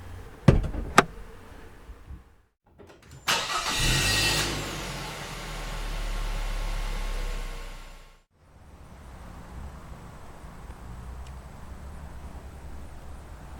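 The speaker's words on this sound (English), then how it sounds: "Let's go ahead and pop the hood." The hood of a 2017 Buick Enclave is opened: a couple of sharp clicks of the release, then a loud metallic clatter and a sustained whoosh as the hood lifts, before a quieter background settles in.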